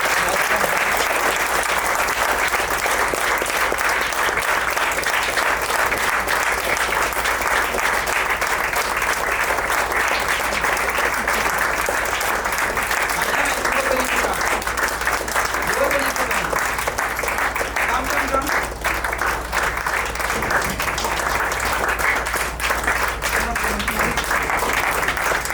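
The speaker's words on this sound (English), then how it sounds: "If we can give them the loudest round of applause." Long, steady, loud applause from an audience honoring college volunteers at a disability-service event, an unbroken wash of clapping with some crowd voices mixed in.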